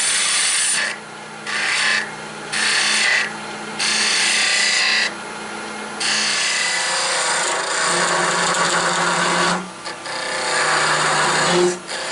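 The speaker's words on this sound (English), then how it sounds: "this is now sanded to 320" Wood sanded by hand for a replica Dalek gives steady, loud rasping strokes, some broken by short pauses, then continuous scrubbing rubs, close and with no talk.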